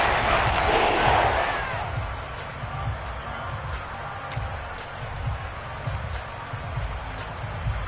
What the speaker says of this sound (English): this crowd's going to get even louder